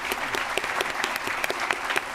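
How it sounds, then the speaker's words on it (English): A board meeting audience applauds a Student of the Year, a crisp, steady round of many hands clapping at moderate distance, individual claps popping out of the wash for the whole stretch. "Let's give him a round of applause for that."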